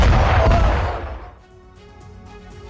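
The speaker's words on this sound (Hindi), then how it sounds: "मिसाइलों के गिरने के बाद ही इस पूरे इलाके में धमाका होता है, जबरदस्त विस्फोट होता है" A missile strike explosion erupts as a heavy, loud boom, then rumbles and fades over about a second and a half, leaving quieter scattered debris and background noise.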